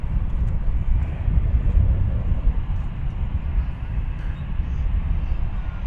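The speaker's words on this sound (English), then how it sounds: "An Airbus A319 going to San Antonio, Texas." American Airlines Airbus A319 jet at DFW Airport in the evening, a steady low roar that swells and eases slightly, heard from some distance.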